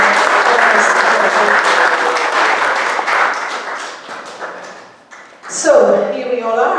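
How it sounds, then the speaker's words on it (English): An audience at a conference closing for Ervin Laszlo's 90th breaks into loud, sustained applause that fades after a few seconds, then a voice speaks over the hall. "And one big applause for Ervin."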